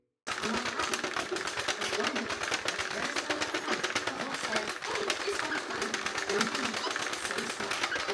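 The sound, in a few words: Sentro knitting machine cranking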